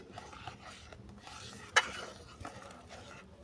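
Raw hog plum kasundi with vinegar boiling in a pot while being stirred, faint soft bubbling and scraping with one sharp clink of metal on the pot.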